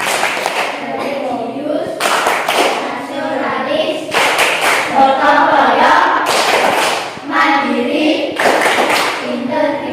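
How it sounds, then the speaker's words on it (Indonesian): Elementary class 5 pupils in an Indonesian classroom clap out the rhythmic PPK clap chant, bursts of sharp hand claps alternating with loud chanted words, repeated in several rounds. "Kita tepuk PPK dulu. 1, 2, 3. Tepuk PPK."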